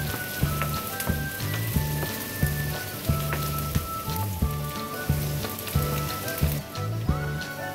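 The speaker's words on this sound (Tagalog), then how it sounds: "Tapos, lagay ko na yung na-chop na sibuyas." Chopped onion sizzles in a frying pan for beef pares, a continuous rain-like crackle with a soft musical tone running underneath.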